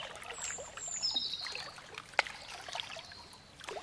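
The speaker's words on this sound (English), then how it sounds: "or a beautiful lake, which might sound a little bit more like this" Gentle water at a lake, soft trickling and lapping with faint birdlike chirps above, one sharp click midway, quiet and steady throughout.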